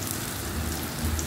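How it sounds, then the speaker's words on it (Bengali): Eggplant pieces fry lightly in hot oil with a continuous, even, rain-like sizzle that stays constant throughout. "তো এই যে বেগুনগুলো ভেজে নিচ্ছি, হালকা করে ভেজে নেব"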